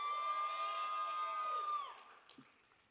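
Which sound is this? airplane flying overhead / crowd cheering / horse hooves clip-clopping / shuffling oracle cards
crowd cheering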